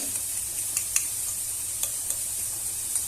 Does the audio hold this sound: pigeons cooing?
no